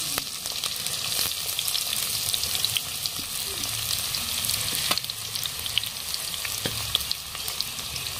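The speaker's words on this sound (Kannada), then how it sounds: "ಉಳ್ಳಾಗಡ್ಡಿ ಒಂದು ಸ್ವಲ್ಪ ಕೆಂಪಾಗಬೇಕು ನೋಡ್ರಿ, ಆ ಥರ ಫ್ರೈ ಮಾಡ್ಕೊಳ್ಳೋಣ್ರಿ" Three finely chopped medium onions frying in hot oil after a spluttering tempering, giving a continuous dense sizzle with scattered spoon clicks, close-up and steady throughout, no talking.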